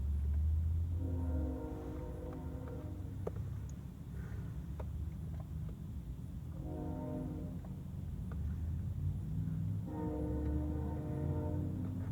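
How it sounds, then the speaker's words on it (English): A deep train horn sounds in three long blasts separated by pauses, loud and droning over a low rumble. "At least that train horn is giving you something to listen to while I drink this."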